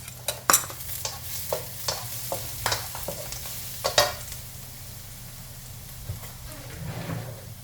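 Garlic fries in a pan for a stir-fry of pork belly with egg and glass noodles, a soft sizzle running under repeated scraping and clinking stirs that come in a loose rhythm close by.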